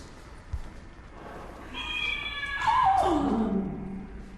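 A single drawn-out cat meow inside Mooste Manor in Estonia, rising then falling in pitch, fairly close against a quiet background.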